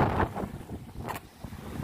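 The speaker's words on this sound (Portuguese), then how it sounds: "Aqui o vento tá daquele jeito, de vez em quando joga uma águazinha por cima aqui" Strong wind gusts batter a fishing boat at sea, roaring through the microphone in uneven bursts with water splashing around, loud and close, and no speech.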